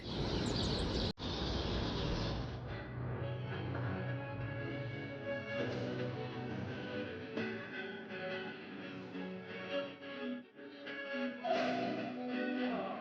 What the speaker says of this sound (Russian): слышите, как кричат птицы